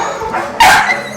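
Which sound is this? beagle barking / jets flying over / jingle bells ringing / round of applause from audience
beagle barking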